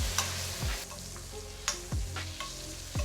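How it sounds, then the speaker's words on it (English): Chicken basted with butter in a hot pan, a loud close sizzle cut by repeated scraping sweeps and taps of a spoon as the butter is tipped and spooned over, with no speech. "So tip the butter to the end of the pan, and you want to keep basting that all over."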